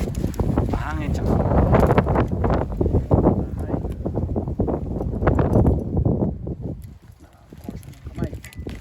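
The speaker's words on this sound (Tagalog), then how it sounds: "Mahangin siya." Gusty wind buffets the microphone in heavy low rumbles, easing briefly near the end, with a voice faintly under it.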